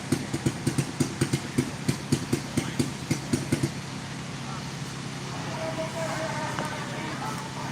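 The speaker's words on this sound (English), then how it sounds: "you're hearing a motorcycle behind me" A motorcycle engine runs close behind the listener at a go-kart short-track racing event in Hanceville, Alabama, giving a rhythmic series of loud thumping pulses for a few seconds before fading into a steady low rumble.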